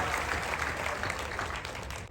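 Steady applause from a crowd at a bhajan gathering at Bageshwar Dham, dense clapping at moderate distance that continues evenly and fades slightly at the end.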